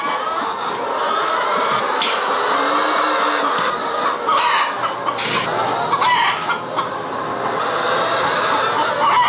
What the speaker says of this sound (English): Chickens are now fed, so all we gotta do is collect the eggs